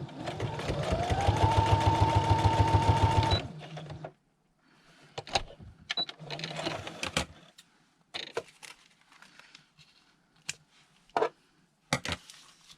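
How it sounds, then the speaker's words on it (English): A sewing machine stitching fabric edges runs in a loud, steady burst for about three seconds, then stops, followed by scattered clicks and handling noises. "now I have to go back and stitch it again"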